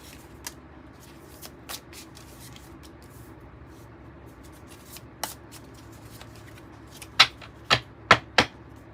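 Tarot cards are shuffled in short crisp bursts, with scattered soft riffles early on and a quick run of sharp, louder snaps near the end, close and with no talking.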